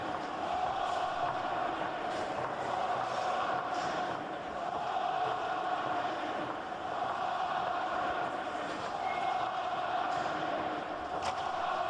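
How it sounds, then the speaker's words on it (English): Steady roar of a large football stadium crowd at a Bayern Munich testimonial match for Oliver Kahn, a continuous distant wash of voices and cheering filling the whole stretch with no break. "He will still be able to hear the crowd."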